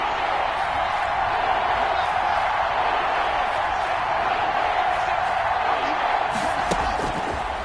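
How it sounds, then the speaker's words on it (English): Stadium crowd noise from a video game football broadcast, a steady loud roar of fans building ahead of a big third down, with scattered shouts and whoops throughout. "the crowd getting into it as we come up on a big 3rd down"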